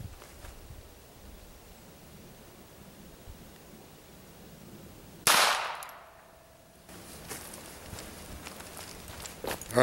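A single sharp .22 rifle shot fired at an iPhone cracks out loud and close, decaying over about a second, between stretches of quiet outdoor background.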